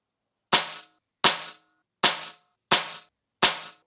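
Five sharp air rifle shots from an HFT500 firing FX pellets at a target, evenly spaced about a second apart, each a loud crisp crack with a short decay and silence between.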